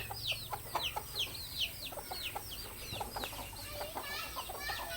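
Several chickens cluck and chatter in quick, overlapping bursts against a low background hum, busy and fairly close, with chickens and ducks kept at a house.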